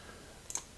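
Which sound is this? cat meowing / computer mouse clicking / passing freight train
computer mouse clicking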